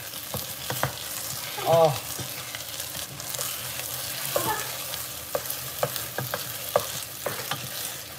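Chunky onions sizzling with tomato paste in a pan for homemade Italian marinara sauce, a steady crackling fry with scattered spoon scrapes and stirring clicks, close up, plus one brief exclamation from a voice.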